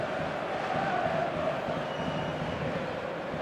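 Dense, steady roar of a large stadium crowd in a sports video game on a clear evening before a big showcase match, a continuous wash of cheering and chatter without distinct voices.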